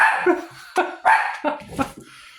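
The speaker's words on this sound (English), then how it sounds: "What is the spiritual meaning of a dog barking?" A dog barks several times in quick, uneven bursts at close range, loud and clear, with a few yippy, whimpering notes mixed in; no talk.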